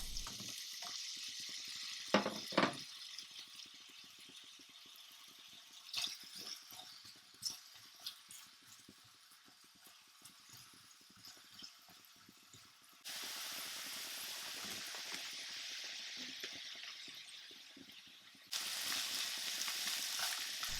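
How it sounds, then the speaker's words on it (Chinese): Potatoes frying in hot oil in a home kitchen pan, giving a steady hiss and crackle with a few brief sharper bursts and louder stretches of sizzling, with no talking. "油热之后就可以下土豆了"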